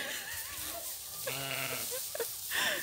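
A goat on a farm bleats in a wavering, quavering call, followed by shorter bleats from nearby livestock, fairly close and clear, with a little soft background noise.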